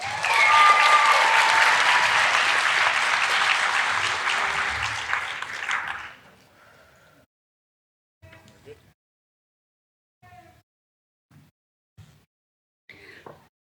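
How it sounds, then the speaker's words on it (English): Applause from the audience at a school district online academy graduation ceremony, a broad loud wash of clapping for about six seconds that stops abruptly, followed by near silence with a few faint scattered noises. "a round of applause for the amazing Navigator leaders graduating"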